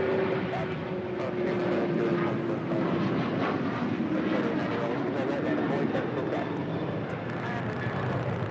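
A Boeing 777 at LAX gives a steady broadband engine roar with a faint whine, fairly close and continuous, while radio chatter and talk run over it.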